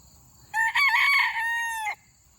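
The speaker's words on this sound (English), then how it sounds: "And this is the other rooster." A rooster crows once, close and loud, a bright, harmonic call of about one and a half seconds that rises and then holds before cutting off, set against quiet surroundings.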